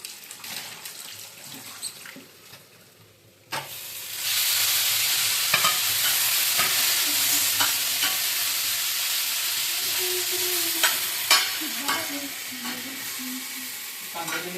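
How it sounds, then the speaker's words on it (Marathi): Tomatoes hit a hot pan of oil and turmeric while cooking chicken, jumping from quiet clinks into a loud, sustained sizzle that continues as a utensil scrapes and stirs at an uneven rhythm. "मग हे टॅमॅटो बी हे करूया. परतूया ह्याच्यात."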